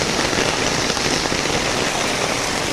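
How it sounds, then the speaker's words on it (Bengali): Heavy rain pours down on the Jarulia area, a constant loud roar of countless drops drumming on surfaces, close and even throughout, with no voices. "দেখেন আমাদের এই জারুলিয়া এলাকায় আজ অনেক বৃষ্টি ঝরতেছে।"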